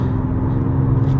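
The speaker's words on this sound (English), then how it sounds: "We're able to actually accelerate uphill, which is something that Tacoma folks might not understand." A 2024 Ford Ranger Raptor pickup pulls uphill with a steady, loud low engine drone that holds even throughout, heard from inside or close by, with no other sounds over it.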